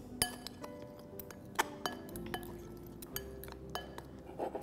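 Spoon clinking against a glass bowl while a paneer spaghetti mixture is stirred, repeated sharp taps and clinks at an uneven pace, fairly close and quiet.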